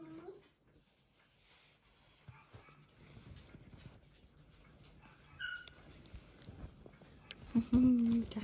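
A Sheltie dog whimpers in faint, high, thin whines scattered over several seconds indoors, with rustling and a louder burst of handling noise near the end.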